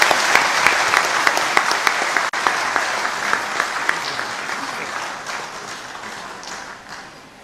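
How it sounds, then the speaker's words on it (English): Sustained audience applause fills the hall at the opening of the 21st AMECEA Plenary Assembly in Karen, Nairobi, steady clapping from a large crowd that gradually thins toward the end. "Kindly let us applaud our chief guest once more."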